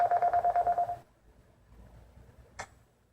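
Telephone dialing tones place a call to a guest during a live broadcast, a quick run of about nine evenly spaced beeps lasting a second, then near-silence broken by a brief click.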